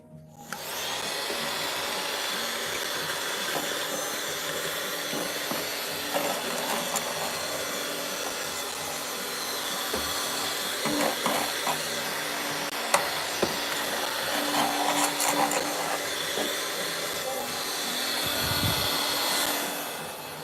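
A vacuum sucks up leaf cutter ants, a steady loud whooshing roar running continuously with scattered rattles and scrapes of debris passing through.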